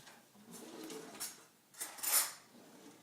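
A small tasting spoon is pulled from a kitchen drawer while tomato bisque is being made, giving a few faint, brief metallic clinks and a soft drawer rattle, with quiet pauses between them.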